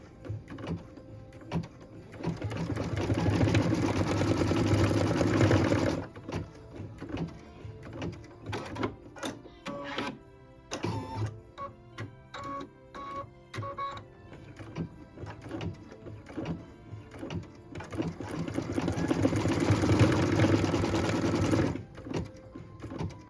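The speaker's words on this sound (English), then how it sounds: "we're going to stitch the placement line right now" An embroidery machine stitches a placement line in bright red thread for a Christmas tree skirt design, running in two long bursts of steady, rapid mechanical chatter separated by a quieter stretch of lighter clicking.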